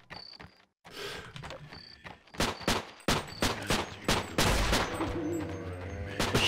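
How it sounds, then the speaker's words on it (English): Soldiers in They Hunger firing rapid bursts of gunfire, loud sharp shots piling into dense, near-continuous volleys. "They're shooting me."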